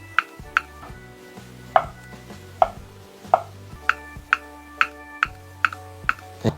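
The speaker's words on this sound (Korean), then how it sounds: "이렇게 잘잘하게 썰어갖고요" A knife finely chopping food on a board, crisp sharp knocks landing in an uneven run of about a dozen strokes that quicken toward the end, close and distinct with no speech.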